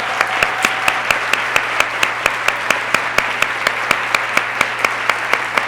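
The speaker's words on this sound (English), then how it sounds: "Give her a proud round of applause." Conference audience at a music therapy association's annual address applauding a new executive director: sustained, even clapping from many hands, with a steady pulse of rhythmic louder claps and a brief voice early on.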